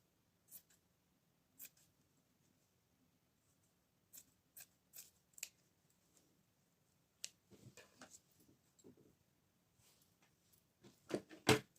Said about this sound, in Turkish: Şimdi kesiyorum.